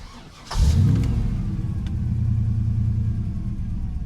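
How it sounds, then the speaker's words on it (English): A car engine cranks briefly and catches, then settles into a steady, close idle rumble that continues to the end. "that's what it should sound like when you start a vehicle up"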